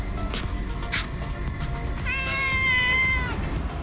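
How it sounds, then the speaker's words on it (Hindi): A house cat meows to be let in, two short calls early on followed by a longer drawn-out meow, close and clear over quiet background. "और ये बिल्ली हमारे घर की है, मुझे समझ आ गई।"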